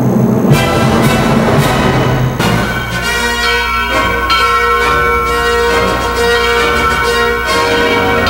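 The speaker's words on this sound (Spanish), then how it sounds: "Las campanas de la Catedral de Notre Dame están llamando a los feligreses para la misa" Large Notre-Dame Cathedral bells in Paris peal continuously, overlapping strikes ringing out loud and resonant with a long sustained hum beneath, calling worshippers to Mass.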